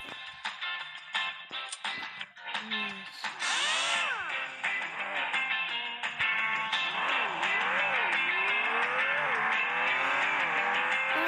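Engine roar and racing effects from the video game Beach Buggy Racing, with revving buggy motors rising and falling in pitch, screeching tires and skids, loud and continuous.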